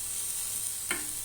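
Cabbage and carrot fry in a temple kitchen for a Jagannath offering, giving a continuous close sizzle with one brief clink of a stirring utensil near the end.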